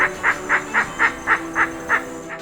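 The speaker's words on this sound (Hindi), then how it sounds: "चहचहाते हुए पक्षियों के कलरव ने उनका मन मोह लिया" A bird at the Tendu Leaf jungle resort in Panna calls in a steady series of about nine honking notes, evenly spaced and fairly near, over a faint hum of background noise.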